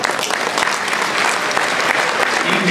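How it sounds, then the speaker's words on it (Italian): Sustained, fairly loud applause from an audience at a Ciociaro Club gathering in Windsor, with dense, steady clapping and no break across the whole stretch. "vorrei un grande applauso per il presidente del Ciociaro Club, Giulio Malatrucco"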